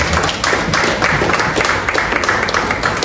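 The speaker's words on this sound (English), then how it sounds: "Please can we give another round of applause?" Summit audience at a women's and youth mental health event giving a round of applause, a loud continuous wash of clapping with a faintly pulsing rhythm throughout.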